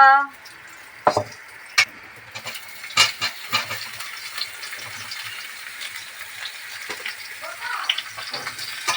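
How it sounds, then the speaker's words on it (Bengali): Potatoes and vegetable stalks fry in oil until reddish, a soft, steady sizzle broken by several sharp clattering knocks and scrapes of stirring. "লাল লাল করে আলুগুলো আর ডাটাগুলো ভেজে নিচ্ছি"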